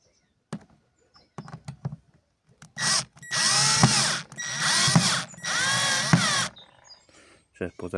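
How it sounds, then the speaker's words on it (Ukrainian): A Dnipro-M cordless screwdriver driving self-tapping screws in three loud whirring bursts, each a few seconds long, set between quiet taps and handling knocks, close to the listener. "Закручувати саморязи будемо також шуруповертом від Дніпра М."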